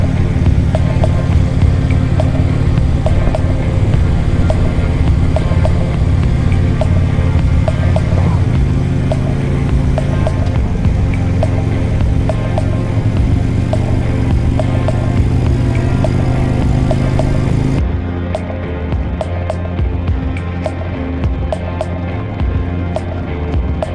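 Motorcycle riding along a canyon road toward Boston Bar, British Columbia, a loud, continuous engine drone with steady wind roar throughout, slightly shifting in pitch as it travels.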